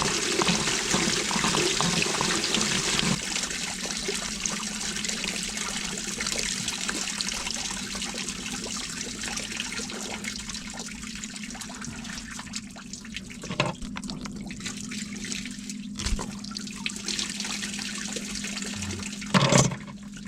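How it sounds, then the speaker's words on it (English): Coolant drains out of a harvester into a cardboard box with a steady, soft trickling and splashing that runs throughout, plus a few faint knocks near the end and no talking. "Guess I'm gonna lose the last of my coolant."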